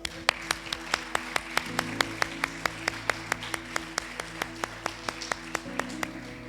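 Church congregation claps in a steady, evenly spaced rhythm over sustained low musical tones, moderately loud and consistent throughout.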